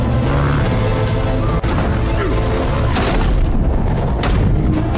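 A loud, booming blast with a sharp crack, followed by crashing and rumbling debris in a dense, chaotic action-scene soundscape.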